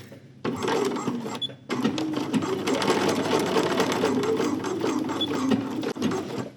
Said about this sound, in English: I'm going to stitch in the same seam line I stitched in before, holding those two things together.